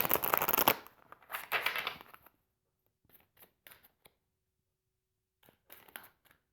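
Tarot cards are shuffled in two quick riffling bursts, followed by a few softer taps and shuffles, close and crisp.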